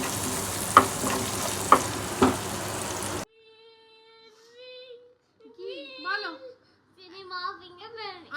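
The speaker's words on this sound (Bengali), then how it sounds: "আদাটাও একটু একটুখানি ভাজা ভাজা করে নেবো" Grated ginger fries in a pan with a steady sizzle and a few sharp scraping stirs for about three seconds, then the frying stops and a voice and other speech follow.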